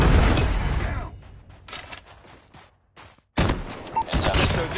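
In COD Mobile, a predator missile strike lands amid gunfire: a heavy blast rumbles at the start and fades out. Rapid bursts of shots follow after a brief silence, loud and close.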